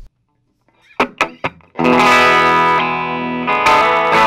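Dean Modern 24 electric guitar played through a used Orange Rocker amp with distortion: a few sharp picked hits, then a loud, sustained crunchy chord that rings out before another strummed attack.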